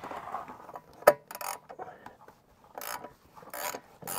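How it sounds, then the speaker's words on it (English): A ratcheting wrench turns the drain plug on a Pentair cartridge pool filter, giving a few short, close ratchet clicks and rasps in bursts, with one sharp louder click partway through and quiet gaps between. "It helps if you have a ratcheting wrench like this one."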